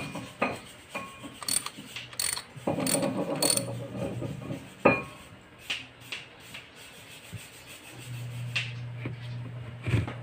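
Wrench loosening bolts to remove a spark plug from a Mitsubishi car, making repeated ratcheting clicks and metallic scraping in bursts, close up with no speech.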